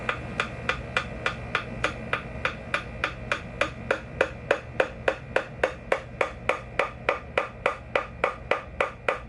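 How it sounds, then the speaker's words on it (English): Wooden dowel tapped into a hole in a Washburn Lyon guitar body during repairs, about thirty close, sharp, evenly spaced taps in a steady rhythm. "starting the dowel in the hole and then tapping it in"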